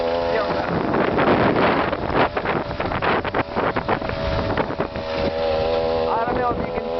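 A homemade bicycle powered by a chainsaw engine cruises along outdoors, its steady engine drone mixed with heavy wind buffeting on the microphone, loud and continuous throughout with a voice talking over it.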